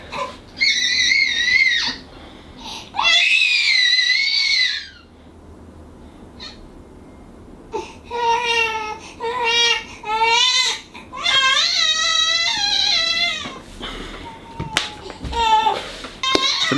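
A young child screams and cries at home in repeated loud, high-pitched wails and shrieks, close by, with short pauses and some faint background noise between outbursts.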